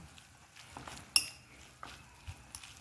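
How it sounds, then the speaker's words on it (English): Utensils clink and scrape softly against a bowl or pot while spaghetti is tossed with a little olive oil, with one sharper metallic tick in the middle and a few quieter knocks spread through the otherwise quiet mix. "And just mix this up into the spaghetti."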